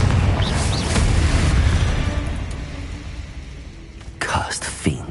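A Confringo explosive spell blast in Hogwarts Legacy, booming rumble fading out over several seconds, then sharp crackling bursts near the end, with voices in the mix.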